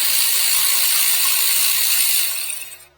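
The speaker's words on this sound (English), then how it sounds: "10 millimeter bolt again, just like that." A ratchet wrench loosens a 10 mm bolt on a Toyota RAV4 Prime, its steady rapid pawl clicking up close for nearly three seconds before it stops.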